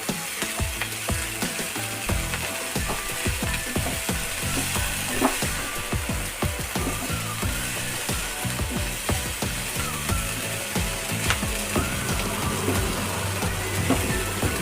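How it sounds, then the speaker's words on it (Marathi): Chigal bhaji, a leafy vegetable, frying in a pan while being stirred, a continuous close sizzle with rapid rhythmic scraping and clacking of the spatula against the pan, no voices. "एक दोन मिनटं मस्तपैकी अशी भाजी हलवून घ्यायची"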